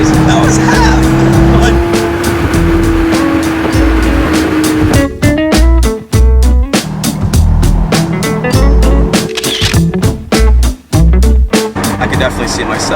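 A sports car accelerates hard with a loud, continuous engine roar, then rapid gear shifts break it into sharp, rhythmic revving bursts; road and wind noise stay close throughout.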